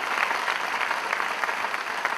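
An audience at the Deenanath Mangeshkar awards ceremony gives sustained, dense applause, loud and even throughout.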